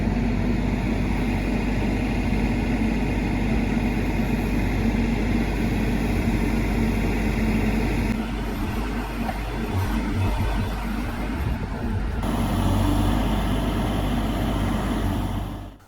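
A machine digs a trench for an underground power line, scraping close to a footer; a loud, steady heavy-engine drone runs the whole time with no pauses and no voices.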